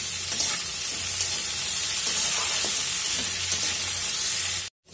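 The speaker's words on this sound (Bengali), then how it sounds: "আলু আর ফুলকপির ডাটাগুলোকে আমি একদম ভালো মতন ভেজে নিয়েছি।" Potato and cauliflower stems fry and are stirred in a pan for a Bengali vegetarian chorchori, a dense, steady sizzle with faint scraping that stops abruptly near the end.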